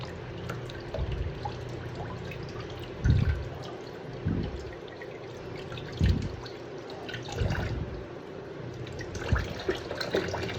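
Sweet potatoes washed by hand under a weak, low-pressure kitchen tap, a steady thin trickle of running water with periodic splashing and rubbing bursts as the tubers are scrubbed, close and continuous, no talking.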